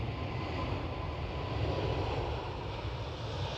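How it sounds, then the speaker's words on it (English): A KLM Boeing 777 in SkyTeam livery flies at Amsterdam Schiphol, its engines producing a continuous broad roar with heavy low rumble that holds steady and fairly loud, no voices present. "KLM 777 Sky Team. She's flying again."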